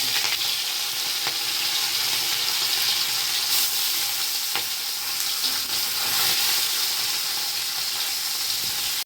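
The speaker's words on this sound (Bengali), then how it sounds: "এবার দেখো আমি এই মাছগুলো আমি অল্প অল্প করে ভেজে নেবো" Small puti fish frying in oil, coated with salt and turmeric, making a loud, continuous close-up sizzle and hiss with occasional sharper spits throughout.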